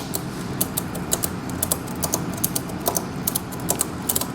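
Rapid, even ratchet clicks from a tie-down being cranked to pull a Bulldog winch cargo net taut toward a corner, a close, steady run of sharp ticks with no talking.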